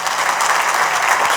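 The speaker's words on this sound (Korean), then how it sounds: "우리 박수로 뜨겁게 축복합시다." A church congregation at an evening baptism service bursts into warm, continuous applause, a loud, even roar of clapping with no talking over it.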